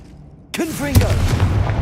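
A Confringo blasting spell in Hogwarts Legacy erupts suddenly from quiet, a sharp burst followed by a warbling, rumbling fiery whoosh that stays loud to the end, with a voice calling out at the onset.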